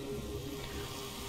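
Water pouring from a pipe in Fallout: New Vegas, Lonesome Road area: a steady, close rushing splash with no variation over a brief moment, heard alone.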